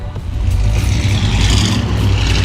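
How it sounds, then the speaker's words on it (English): A loud truck rumbles past close by in a parking lot, a heavy low engine drone with some higher roar that holds strong throughout. "Sorry for that obnoxious truck that just drove by."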